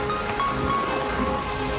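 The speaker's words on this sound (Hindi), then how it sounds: "ये देखो बारिश हो रही है" Steady rain falls at Chittorgarh fort among vegetation, a continuous even patter that stays close and fairly loud throughout with no clear speech.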